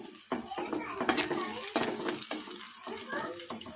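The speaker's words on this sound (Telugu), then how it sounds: "అల్లం వెల్లిగడ్డ పచ్చివాసన పోయేంత వరకు మనం ఉడికించుకోవాలి నూనెలో" Ginger garlic paste and onions frying in oil, heard up close as a continuous sizzle with repeated stirring scrapes and clinks of a utensil against the pan.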